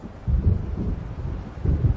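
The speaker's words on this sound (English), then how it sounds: "It seems there's a storm coming." A thunderstorm rolls in over open water in the video game Alan Wake Remastered: deep, heavy rumbles of thunder swell in two long surges over a steady bed of wind, with no voices.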